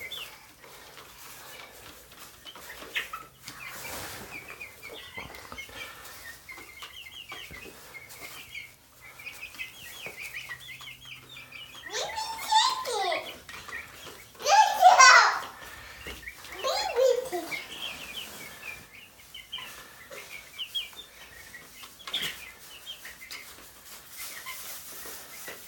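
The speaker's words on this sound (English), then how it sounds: "Yeah, those are baby chickens." Baby chickens chirp and cheep indoors, with short bursts of high peeping scattered through the scene and a louder flurry midway, mixed with an adult and someone talking.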